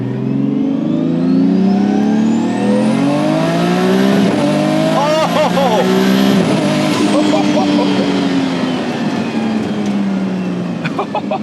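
Nissan R33 GT-R with a 700hp engine and a sequential gearbox, accelerating hard and loud with rising engine tones broken by quick gear shifts, with people talking over it.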